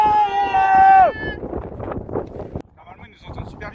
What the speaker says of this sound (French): Normalement, ils nous entendent super bien, sauf que là, le vent est pas mal.